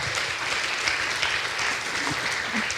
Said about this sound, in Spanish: se le va a aplaudir al Señor